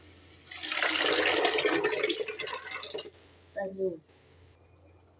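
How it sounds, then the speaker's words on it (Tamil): Cooked lentil water poured into a pot of sambar, a steady liquid splash for a few seconds that tapers off, followed by a brief kitchen clatter. "இப்போ வேக வச்ச தண்ணியை பயிர் தண்ணியை நம்ம ஊற்றிக்கலாம்."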